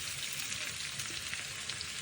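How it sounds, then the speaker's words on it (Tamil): Onion and green chillies sautéing in oil with mustard seeds for a coconut salmon curry, a faint, even sizzle heard close, with no voices. "ஒரு பெரிய வெங்காயத்தை போட்டு நல்லா வதக்குவோம்"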